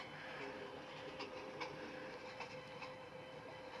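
A train rolls toward Chittagong railway station with a faint, steady rumble and soft clicking of wheels over the rails, heard from inside over a constant background hum.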